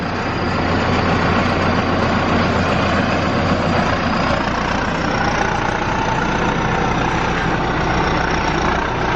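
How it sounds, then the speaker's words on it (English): A farm tractor rumbles close by on a cranberry farm, a loud, steady low engine drone that stays constant throughout, with no talking. "Got a tractor coming right by me."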